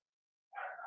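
A dog gives a single short, faint bark that starts abruptly after half a second of silence and carries through to the end.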